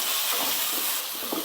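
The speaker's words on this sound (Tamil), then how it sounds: "தக்காளி சேர்த்து ஓரளவுக்கு வதக்கிடுங்க." Onions and tomatoes sauté in a home kitchen pan with curry leaves, giving a steady, close sizzling hiss with faint stirring scrapes throughout.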